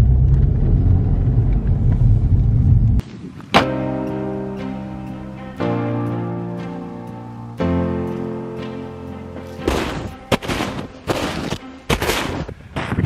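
Car engine revving hard in second gear on snowy ground, a loud roaring rumble that surges and falls in several bursts, close by, with no talking.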